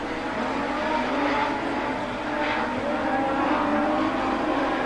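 Speedway race cars roar continuously around an oval track, a loud sustained engine howl from several cars with rising and falling passes and no talk over it.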